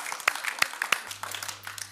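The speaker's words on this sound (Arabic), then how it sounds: "إذا تصفيق" Audience applause in a children's television studio, with scattered, uneven claps that start sharp and sparse and then settle into lighter continuous clapping over a steady low hum.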